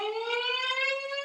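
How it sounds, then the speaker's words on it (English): Civil defense warning siren from a 1951 film, a steady harmonic wail rising slightly in pitch, sustained and continuous on its own with no talk. "What if a warning siren sounds?"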